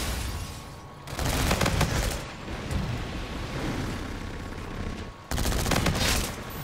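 The Osa gun in Call of Duty: Infinite Warfare fires in loud, rapid automatic bursts, close and dense, with explosive in-game battle noise between volleys.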